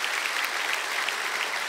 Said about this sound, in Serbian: molim ja na aplauz